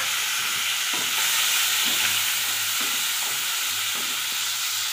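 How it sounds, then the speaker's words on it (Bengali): Shrimp coated in salt and turmeric fry in hot oil in a Bengali kitchen, giving a steady close sizzle with a few soft stirring clinks through the whole stretch and no talk. "এইবারে ওই তেলের মধ্যে নুন হলুদ মাখানো চিংড়ি মাছ ভেজে নেব।"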